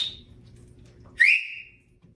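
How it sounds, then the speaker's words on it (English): A person gives a loud human whistle, one sharp rising-and-falling blast after a faint short note at the start, with quiet background murmur before it. "I'm gonna have to whistle and I'm gonna have to mute this because my whistles are loud."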